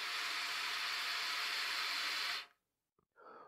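Air rushes through a trumpet as a steady, breathy hiss like white noise, loud and close, cutting off abruptly after a couple of seconds.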